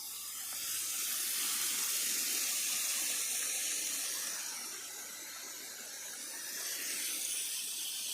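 Water gushing from a burst pipe beside a road, a loud, steady rushing hiss that swells and eases slightly throughout, with no voices.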